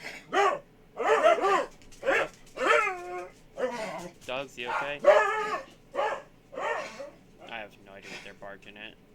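Dogs whimper and bark in a string of short, pitched, whining yelps and yips, repeated irregularly and fairly close.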